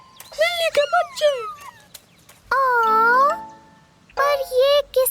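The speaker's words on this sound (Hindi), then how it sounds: "बिल्ली के बच्चे।" Cartoon kittens meow repeatedly in high, bright calls, a quick cluster of mews, then one long drawn-out meow, then another burst of short cries, close and clear.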